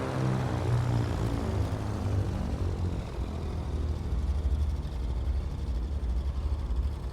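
Twin engines of a Cessna 310 in a flight simulator throttled back to idle, a steady low propeller drone with a pulsing throb, continuous and fairly loud without any talk.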